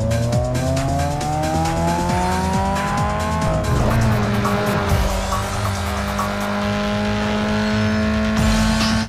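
An upgraded car engine in the racing video game Need for Speed Underground 2 roars continuously at high revs with shifting pitch and tire squeals, loud and alone.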